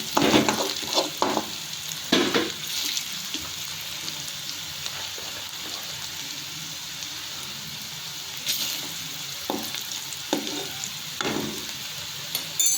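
Vadam palam with a little salt sautéing in a pan: a steady, soft sizzle with intermittent scraping stirs and clatters throughout.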